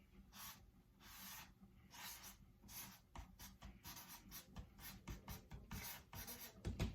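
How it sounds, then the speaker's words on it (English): Pen or pencil scratching out a definition on paper, a steady run of soft, close strokes with short pauses and rhythmic bursts, quiet and alone without talk. "I'm going to go ahead and write the definition down"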